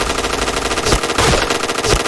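Gunfire rattles continuously in a video game shooter, rapid automatic shots forming a dense, loud stream with a few heavier bursts standing out.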